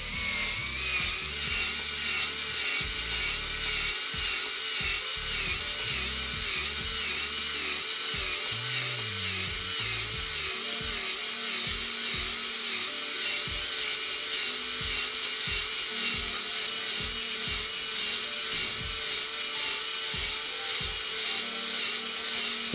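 A power-driven cylinder hone grinds steadily inside an LS engine bore, a continuous high whirring with rhythmic strokes as it works up and down, loud and close throughout.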